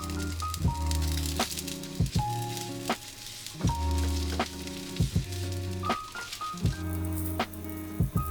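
Fish skin crisping skin-side down in oil in a pan, with a steady sizzle running under background music that has a repeating rhythmic pattern.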